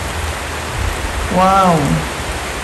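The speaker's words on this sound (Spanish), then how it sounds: "ahora que no hay nube, está lloviendo" Steady rain falls as a dense, even hiss close around, with a brief voice exclaiming partway through.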